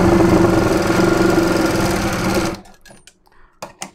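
An electric sewing machine stitches a waistband onto a blouse in a loud, steady whir for about two and a half seconds. It then stops, leaving a few brief clicks and handling knocks.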